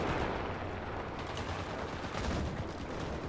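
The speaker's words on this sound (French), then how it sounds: "Là, j'ai l'impression que ça tire du gun." Gunfire rattles through a WWII video game battle, a dense, steady barrage of distant shots and rumbling fire with no clear pauses.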